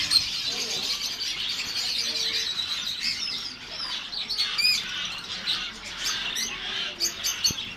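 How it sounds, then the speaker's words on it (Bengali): Many caged birds in a bird shop chirp, tweet and squawk all at once, a dense, busy chorus of overlapping calls with occasional sharper squawks and light rustling. "হরেক রকম পাখির সমারোহ, মাই গড। বিভিন্ন বিভিন্ন রকমের পাখির সমারোহ"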